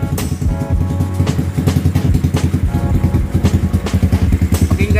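A Raider 150 motorcycle engine runs at idle close to the microphone, a loud, even, rapid chugging pulse that holds steady throughout, with no talking.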